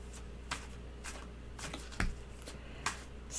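Tarot cards being shuffled by hand, a series of quick riffling bursts at a fairly even rhythm, close and moderately loud against a quiet room, with no speech.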